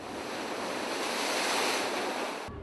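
Big ocean swells crashing on the rocky coast at Pacific Grove near Lover's Point, a dense continuous roar of surf mixed with gusty wind buffeting the microphone, with no voices.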